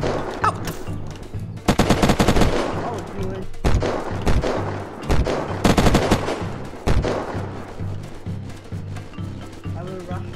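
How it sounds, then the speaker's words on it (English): Loud bursts of automatic gunfire in Unturned, several sharp volleys rattling out in irregular clusters with quieter gaps, and someone talking over the shooting. "Someone's shooting me!"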